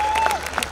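Applause from a live audience at a Hindi comedy show in Bhopal, a brief moderate burst of clapping that thins out quickly, with a few louder scattered claps near the end.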